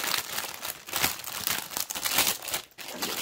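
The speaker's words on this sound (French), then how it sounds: "je vais les déballer un à un" Plastic packaging crinkles as cross-stitch kits are unboxed one by one, close and irregular rustling and crackling bursts with no talk.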